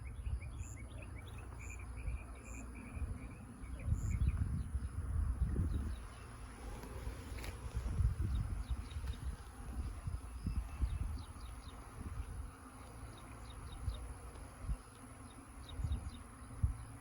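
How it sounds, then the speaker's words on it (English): Calm honeybees being removed from a water box buzz steadily close by, a low droning hum that swells and fades, with faint distant chirps in the background. "I actually need to get the bees off of here now."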